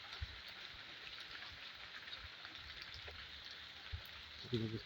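Rain falls steadily in the open near a roadside plot in Gazipur, making a constant soft hiss through the whole stretch, with a brief low voice near the end.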